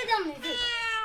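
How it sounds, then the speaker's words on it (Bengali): A cat meows twice, a drawn-out rising and falling cry followed by a second steady one, close by and clear. "ওরে বিড়াল আইছে রে"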